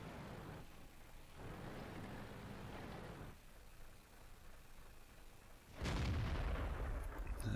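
A French tier 6 tank destroyer, the ARL V39, fires its gun in World of Tanks. One loud, deep boom lands near the end after a stretch of low engine rumble and quieter ambient noise.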